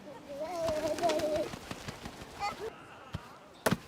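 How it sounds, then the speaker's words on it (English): Pigeons coo softly nearby while being fed, low throaty calls mixed with scattered taps and flutters, with a person speaking over them. "I'm feeding the pigeons."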